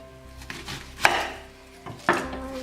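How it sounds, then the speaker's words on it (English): A knife cuts small organic onions into wedges on a board, making a few distinct chopping thuds with short pauses between them. The cuts are close and fairly loud, with no talking. "here is 3 smaller organic onions. I just cut 3 of them."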